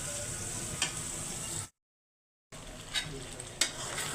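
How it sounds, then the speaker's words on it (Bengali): Meat with spices frying in a pan over a low gas flame makes a soft, steady sizzle with occasional stirring clicks, broken by a short silent gap. "মশলাটারে কষিয়ে ভালো করে কষিয়ে তারপর মাংসটারে এখন আস্তে আস্তে কষাবো"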